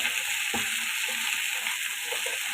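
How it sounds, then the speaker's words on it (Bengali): Bitter gourd and potato frying with garlic and onion, a steady loud hiss of sizzling oil running throughout, with a couple of faint stirring knocks. "আমি এখন একই রসুন এবং পেঁয়াজের সঙ্গে ভেজে নেব।"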